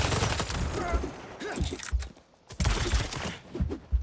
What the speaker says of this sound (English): Oh my god, they're shooting the shit out of me.